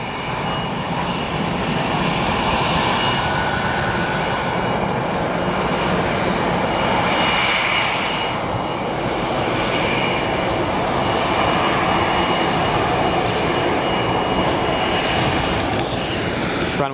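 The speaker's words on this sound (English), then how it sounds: "Here comes our next arrival, United Airlines." A United Airlines airliner arrives at O'Hare Airport, its engines roaring steadily and loud for the whole stretch, swelling slightly as it passes, heard alone without talk.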